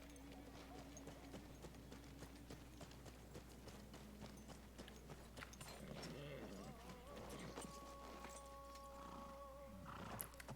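Faint, rhythmic clip-clop of horse hooves in the desert in Battlefield 1 plays over a low steady hum, with soft tonal game-like sounds near the end.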